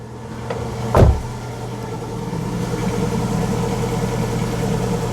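A Citroen 2CV engine idles steadily with the heater fan, fog light and heated rear window switched on, giving a constant low drone close by, broken near the start by a brief louder thump.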